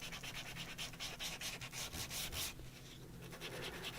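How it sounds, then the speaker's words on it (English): A sanding disc scrubs steadily along the edges of an art journal page, a continuous close rasping that rises and falls with each stroke. "just using one of the sanding discs. And I'm just going to do this and sand the edges"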